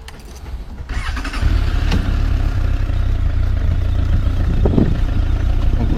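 Motorcycle running steadily while the rider shifts from first through third and back down to first without touching the throttle; a low, even engine drone with a few soft clunks of gear changes and a brief clatter near the end.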